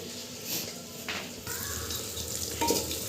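Onions fry in a pan for a Bengali handi mutton dish, a steady close sizzle with occasional stirring scrapes and clinks.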